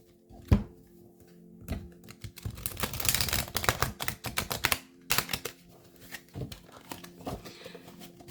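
A deck of cards being shuffled at close range, giving a run of quick riffling and papery flutters with a few sharper snaps, no voice over it.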